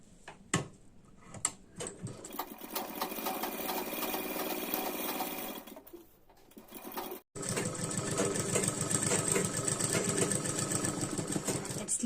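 A sewing machine stitches across a blouse corner, running steadily in close, loud bursts with brief pauses and a short stop partway through, then whirring on continuously.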